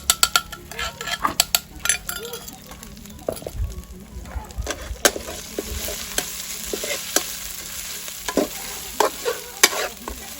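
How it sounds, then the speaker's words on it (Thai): Homemade pounded chili curry paste stir-fried in a pan over low heat for a spicy frog dish, with a constant sizzle under frequent metallic clinks and scrapes of the spatula against the pan. "ผัดให้มันสุกก่อนครับ"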